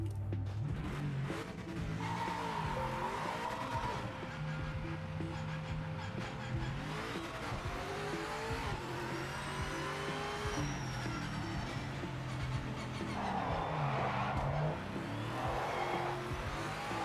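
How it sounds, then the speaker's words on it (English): Tyres spinning and squealing on a painted track surface in the Project Motor Racing video game: a continuous wavering screech layered over a droning, revving race-car engine, loud and unbroken throughout. "I've heard tyres make that noise on a painted surface"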